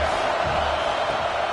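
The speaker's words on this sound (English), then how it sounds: "Decibels rising as the crowd gets behind this defense on third down." Football stadium crowd roaring behind the defense on third down, a dense, loud, sustained wash of cheering from a large crowd.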